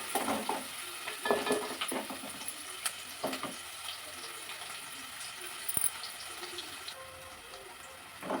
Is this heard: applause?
no